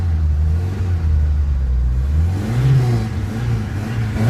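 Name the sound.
1963 Mk1 Ford Cortina restomod engine starting and running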